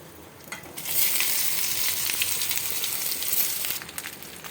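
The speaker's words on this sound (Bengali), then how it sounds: "এবার ভাজা সব সবজিগুলো আমি দিয়ে দিচ্ছি" Fried vegetables tipped into hot oil with tempering in a pan erupt into a loud, steady sizzle that rises after a quiet second and fades slightly near the end, with faint stirring.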